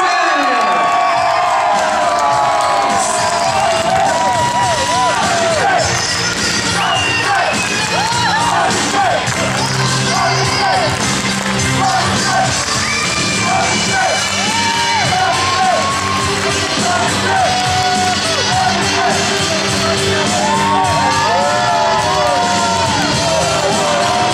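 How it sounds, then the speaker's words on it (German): A large crowd at a cheerleading championship results ceremony in Bottrop, Germany, cheers continuously, with whoops, yells and high children's shouts over dense noise, loud and close throughout. "Ein ganz großer Applaus für unsere Kleinsten."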